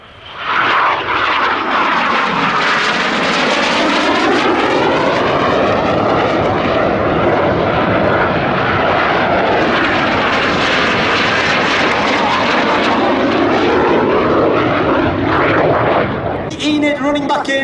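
Red Arrows display jets fly low in opposition barrel rolls at the Duxford Battle of Britain Airshow. A loud, continuous jet roar with sweeping pitch shifts as the aircraft pass fills the clip, fading only at the very end.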